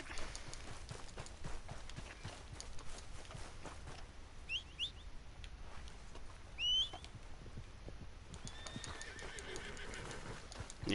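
A horse in Red Dead Redemption 2 whinnies a few times over a steady bed of hoofbeats and outdoor game ambience, with the neighs fairly faint and brief and no talk.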